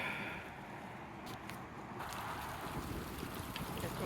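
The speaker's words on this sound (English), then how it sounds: "Here comes another big wind." Strong wind gusting outdoors on an autumn street with blown leaves, a steady loud broadband rush buffeting the microphone throughout, swelling slightly toward the end, with no voices.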